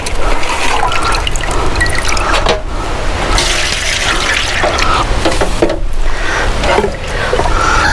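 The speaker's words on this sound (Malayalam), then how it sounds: "ഇങ്ങനെ അരിപ്പ് വെച്ച് വേണം അരിച്ചെടുക്കണം കരടൊക്കെ" Fresh rubber latex pours steadily through a sieve into a dish on a Kannur rubber-tapping farm, giving a continuous close liquid splash and trickle for the whole stretch, with no talking.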